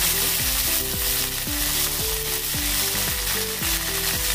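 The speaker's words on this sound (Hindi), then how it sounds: "अब इसमें कड़ी पत्ता डालेंगे" Curry leaves crackle and sizzle as they drop into hot oil with mustard seeds, a loud, continuous frying hiss that stays close and dense from start to finish with no voices.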